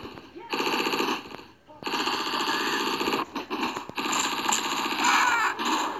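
SMG gunfire in the Mini Militia video game rattles in long rapid automatic bursts, close and loud, with short gaps between volleys and a voice faintly underneath.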